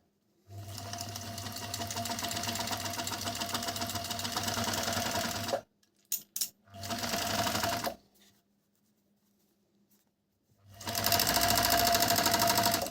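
Four-thread overlock serger stitching and trimming fabric, a steady fast mechanical whir in long runs broken by brief stutters and pauses, then starting up again loudly with no voices over it.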